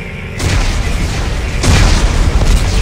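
Explosives detonate in Dead Space 3, a deep rumbling boom that swells, then a second heavy blast rolls in, both loud and close.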